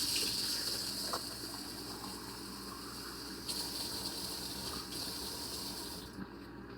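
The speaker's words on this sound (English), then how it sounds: "I'm going to start pouring it in" Lukewarm water poured into bread flour for hand-kneaded dough, a steady close gushing splash that runs continuously for several seconds before tapering off at the end, with no talking.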